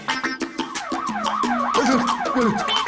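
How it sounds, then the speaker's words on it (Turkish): An emergency vehicle siren wails loud and near, its pitch sweeping up and down in rapid repeated cycles, alone without voices. "Polis midir, itfaiye midir, ambulans mıdır bu?"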